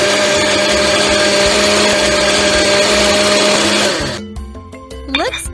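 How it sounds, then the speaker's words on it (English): A game blender whirring loudly as it blends iced coffee with ice and milk, a steady high motor whine that winds down near the end, followed by cheerful tonal chimes. "Now blend everything!"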